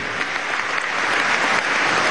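A crowd at a political event in La Guaira, Venezuela applauds, a dense, loud, sustained clapping that continues without a break and has no speech over it.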